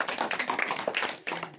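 Steady applause from a group, a dense run of claps that briefly dips near the end before picking up again.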